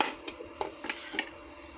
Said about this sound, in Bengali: এখন আমি চিংড়ি মাছগুলো দিয়ে দিচ্ছি